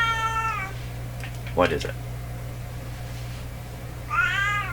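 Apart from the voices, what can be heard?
cat meowing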